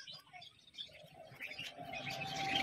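Faint, distant cooing from red Muski pigeons, mixed with soft chirps and light rustling. The sounds are low and intermittent.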